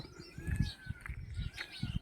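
Birds on a morning walk through village hills give faint, thin whistling chirps and a sliding call, with soft low thumps of footsteps or handling beneath.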